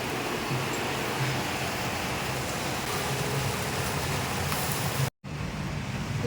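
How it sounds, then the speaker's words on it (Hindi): Rain falls outside a rental apartment in Mumbai, a dense, steady hiss at moderate level that runs on unbroken apart from one brief cut near the end. "आवाज़ देखो, बारिश की आवाज़।"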